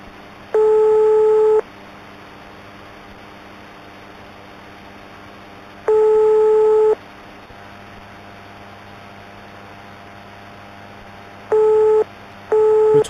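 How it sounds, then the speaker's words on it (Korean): A phone call to Johan keeps ringing unanswered: a steady electronic tone pulses in four separate bursts, about a second each and spaced several seconds apart, over a low, constant mains hum. "요한한테 전화하기"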